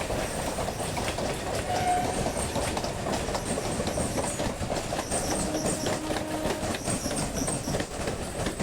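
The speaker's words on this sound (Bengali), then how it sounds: "আর অপর সাইডে একটি ট্রেন আমাদের জাস্ট অতিক্রম করলো।" Local train on the Ranaghat route passing on the other track, heard from inside a moving carriage: continuous loud rumble and clickety-clack of wheels with a faint horn, steady throughout with no talking.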